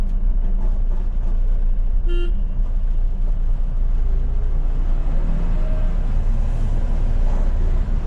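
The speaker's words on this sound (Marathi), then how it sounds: "ट्राफिक जाम आहे आज बॉर्डरला" Heavy road traffic jammed at a state-border RTO checkpost rumbles continuously, with a short car horn toot standing out once amid the steady engine drone.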